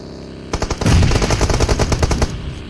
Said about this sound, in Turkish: Bana sıkıyorlar.